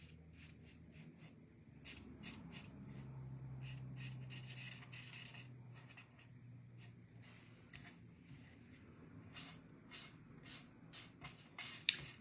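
Pencil or marker scribbling on paper while coloring a card layout, soft repeated streaking strokes in short bursts, close and faint, with a quiet hum beneath and no speech.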